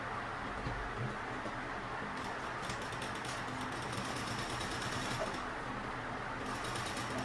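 A sewing machine runs steadily while stitching a bag strap, a continuous fast mechanical whir with brief brighter rattling bursts partway through, close and alone without talk.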